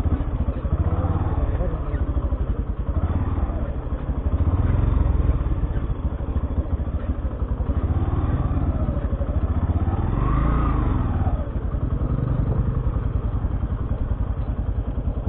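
Motorcycle engine labouring along a badly broken, rough road, a continuous loud chugging drone with rises and falls in revs and rattling from the bumps.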